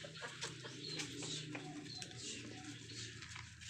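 A flock of ducks being herded into a pen gives off faint, scattered clucking and quacking calls over a soft outdoor background.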